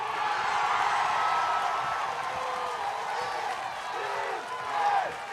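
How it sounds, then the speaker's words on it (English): A school rugby crowd for Wesley College roars after a try, a broad continuous wash of cheering and whooping with a swell near the end. "You hear the crowd. Wesley College going wild."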